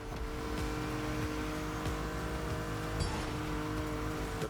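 A BMW convertible with the top down cruising in The Crew Motorfest, a steady engine drone holding at a constant, fairly loud level with no voices.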